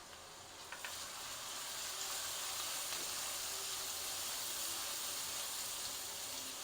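Spices and onions fry in a pan for a Hindi-style roasted eggplant bharta, giving a soft, continuous sizzle and hiss throughout, quiet and steady with no talking.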